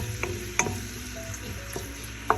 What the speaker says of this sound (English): Now you can go ahead and season our onions as it is frying